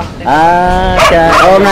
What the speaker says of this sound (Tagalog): Yun yung aso nagpatatahol oh.